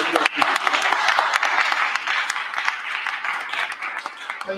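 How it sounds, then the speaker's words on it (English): Applause at an exhibition launch about the Bishops of London and transatlantic slavery, a dense crowd clapping steadily and close for several seconds, tapering slightly toward the end with scattered individual claps. "One more time, round of applause."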